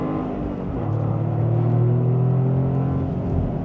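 A 2025 Toyota GR Corolla with a six-speed manual gearbox accelerates hard. Its engine drones from inside the cabin with a rising tone that holds steady and loud throughout, and no one speaks.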